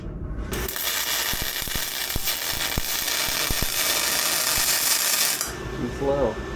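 Aluminum being welded with an ARCCAPTAIN spool gun under argon shielding gas: a continuous loud hissing, crackling arc that starts abruptly, runs steadily for about five seconds with sharp pops, then stops suddenly.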